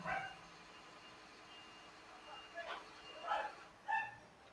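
Excited dogs bark and yip in short bursts at a passing garbage truck, whose faint reversing beeps repeat underneath.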